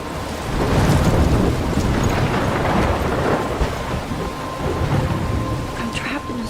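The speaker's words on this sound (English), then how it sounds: "I'm trapped in a storm?" Continuous heavy rain and rolling thunder from a thunderstorm in the video game Life is Strange, a dense steady roar with low rumbles throughout, loud and close, no talk over it.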